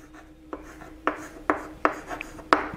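Chalk or marker writing on a classroom board during a chemistry lecture, heard as five or six sharp, evenly spaced tapping strokes close by, with no talk over them.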